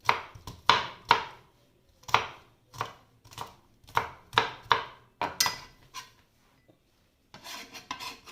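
A knife chops garlic on a board for homemade tenders with Chinese noodles, about a dozen crisp, uneven taps close by, with a short pause near the end before a final quicker burst. No one speaks.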